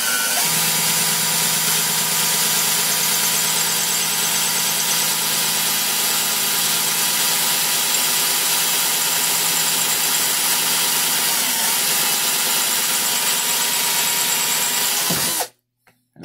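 A cordless screwdriver spins continuously at steady high speed in an attempt at friction welding, a loud, unbroken whirring drone that runs almost the full length before cutting off abruptly near the end.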